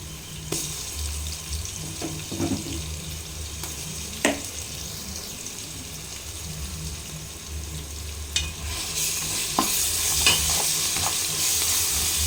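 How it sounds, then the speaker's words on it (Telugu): Ginger sizzles in a pan with onions, green chillies and spices for mutton head curry, under a soft, continuous frying hiss broken by scraping stirs and a few sharp clinks of the spoon against the pot. "బాగా కలుపుకుందాం అల్లం వేగుతుంది"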